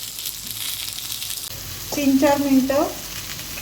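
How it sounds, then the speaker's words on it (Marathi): Catla fish frying in a pan, just flipped over, gives a steady close sizzle and crackle throughout, with a short spoken phrase over it near the end. "आपण आता ही मच्छी छान फ्राय करून घ्यायची आहे"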